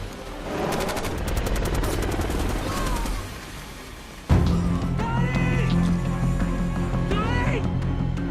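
Bursts of automatic gunfire from the 2007 action film Shooter, aimed at an enemy helicopter in a firefight, loud and rapid under dramatic score with a sharp blast midway, followed by continued shooting and metallic impacts.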